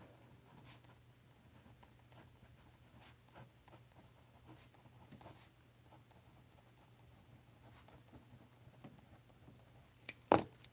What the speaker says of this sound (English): Amanda, let me write down egg bites.